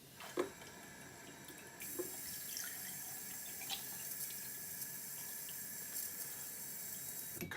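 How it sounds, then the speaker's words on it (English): Cold tap water running from a kitchen faucet into a sink, a steady hissing stream that starts after a brief click and continues evenly, close and fairly quiet. "Cold tap water."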